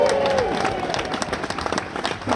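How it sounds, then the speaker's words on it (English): A live audience gives a round of applause for William Stone, dense clapping and crowd noise filling the room steadily, with a voice briefly rising over it near the start. "please give a massive round of applause for William Stone!"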